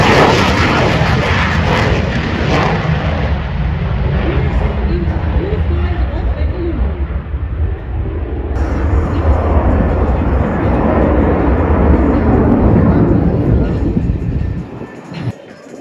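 A Tejas fighter jet's GE 404 engine roars loudly and steadily on takeoff at an air show, building into a heavy rumbling blast that swells and then cuts away at the end.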